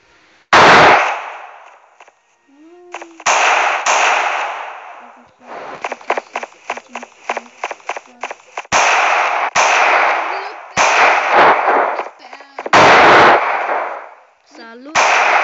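Sniper rifle shots ring out in a video game, with sharp loud cracks spaced a few seconds apart and a rapid burst of fire in the middle, mixed with other game noise.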